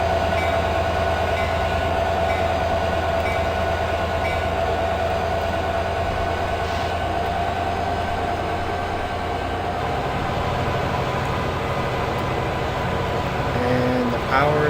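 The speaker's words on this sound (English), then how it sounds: "This train is a EMB F59." Rumbling diesel engine drone and rolling rail noise of an EMD F59 locomotive pulling a Surfliner passenger train toward San Diego in the Open Rails simulator, loud and steady throughout, with someone talking over it.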